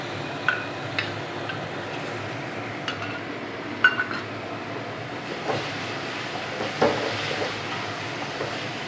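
Prawns tipped into a hot pan and stir-fried for a bottle gourd and prawn curry, giving faint scattered clinks and taps of a utensil against the pan over a steady low background hiss.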